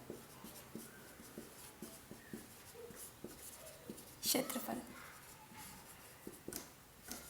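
Pen or chalk scratching out a cuboid box surface area formula in quick strokes, close and clear, with short bursts of writing and one louder scrape midway, alongside someone speaking Hindi.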